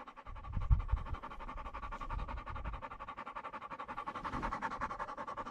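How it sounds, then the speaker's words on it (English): An animal pants in quick, steady breaths outdoors at a Montana homestead during metal detecting, close and continuous, with a few low thumps near the start. "What are you panting about?"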